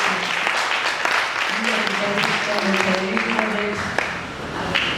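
A church congregation claps for a preacher, a dense burst of applause with a voice talking over part of it and a tone sounding in the background.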